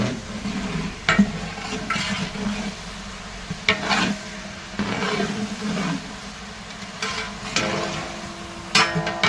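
Onions fry in a pan with a pinch of salt and are stirred now and then, producing a steady close sizzle broken by sharp scraping stirs.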